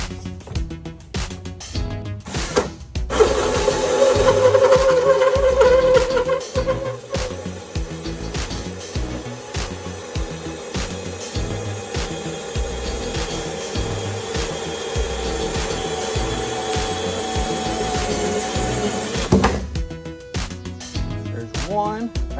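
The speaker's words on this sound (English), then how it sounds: "Drill our holes." A drill grinds steadily into a barrel for a long stretch, with rough rasping texture, preceded and followed by short bursts of handling noise.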